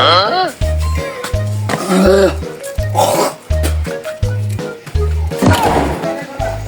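Repeated harsh coughs burst out in a comic kung fu skit, loud and close, spaced in an uneven rhythm, with a steady thumping beat and voices talking between them.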